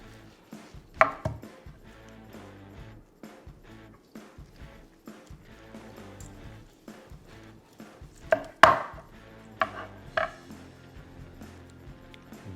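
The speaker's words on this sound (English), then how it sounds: "We'll flip it on this side to cut along the bone." Knife cutting through smoked beef ribs along the bone on a board: scattered knocks and sharp chopping thuds, with a few louder strikes, close up and irregular over otherwise quiet background.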